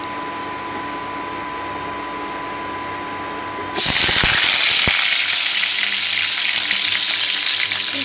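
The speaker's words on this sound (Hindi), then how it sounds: "आलू को अच्छे से फ्राई कर लूँगी।" Potatoes dropped into hot oil with a dried red chilli, bay leaves and cumin, bursting into a loud, dense, crackling sizzle that fills the space after a quieter stretch, close and continuous.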